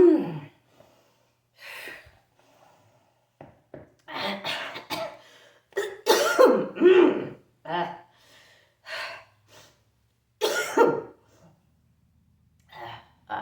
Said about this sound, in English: making me cough a lot